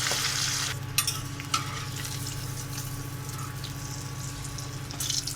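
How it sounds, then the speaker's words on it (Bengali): Fish frying in hot oil, a steady close sizzle and crackle that holds throughout, with a couple of sharp spits and a louder burst near the end. "এইভাবে আমি সবকটি মাছ ভেজে নিচ্ছি।"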